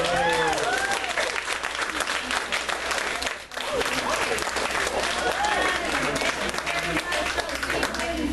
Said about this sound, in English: just a round of applause for everybody tonight